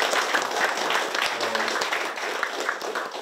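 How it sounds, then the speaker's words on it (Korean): Steady audience applause at a Korean seminar lecture, moderately loud and sustained, with a short stretch of talk or murmur partway through. "여러분 박수 한번 쳐주시죠."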